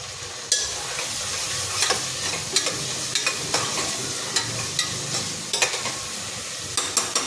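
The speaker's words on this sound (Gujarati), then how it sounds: "ડુંગળી નાખવા પછી એને હલાવવાનું જરૂરી છે" Onions go into hot oil with cumin for pav bhaji, giving a steady close sizzle while a spoon scrapes and taps the pan in sharp, regular strokes. No one speaks.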